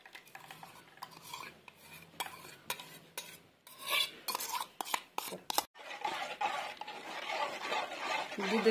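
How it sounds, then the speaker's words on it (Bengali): Yogurt being stirred into milk for mishti doi, a spoon clinking and scraping against a metal pot in an irregular rhythm, close and moderately loud, with brief faint talk underneath. "দুধের সঙ্গে দইটা ভালো করে মেশানো হয়ে গেছে আমার, ভালো করে মিশিয়ে নিলাম"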